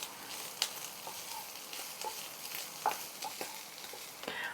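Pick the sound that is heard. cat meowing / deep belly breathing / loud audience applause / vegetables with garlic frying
vegetables with garlic frying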